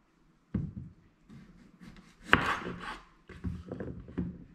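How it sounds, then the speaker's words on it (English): A knife cuts through marrow on a board in a few separate, dull chops and slicing scrapes, close and fairly soft, with short pauses between cuts. "So cut some equal size."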